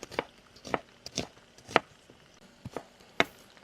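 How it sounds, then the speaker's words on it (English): A red onion is sliced with a knife on a cutting board in a home kitchen. Crisp, close chopping taps come one after another at an uneven pace, about eight strokes, with no voices. "So I have one red onion. And we'll cut this in slices."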